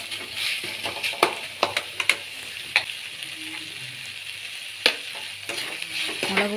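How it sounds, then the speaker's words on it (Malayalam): Chili powder being stirred into tomato chutney in a pan, with a steady close sizzle of frying under sharp scraping clicks of the spoon against the pan at irregular intervals. "മുളക് പൊടി ചേർത്തതിന് ശേഷം വീണ്ടും നന്നായി ഇളക്കുക."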